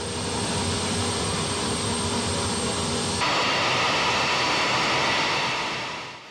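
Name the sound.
Antonov cargo aircraft taxiing, engines building thrust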